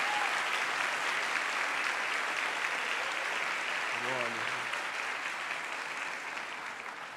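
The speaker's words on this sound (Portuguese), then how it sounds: "Uma salva de palmas para ela" A crowd claps steadily and loudly throughout, a dense sustained round of applause with a brief low tone partway through, easing slightly at the end.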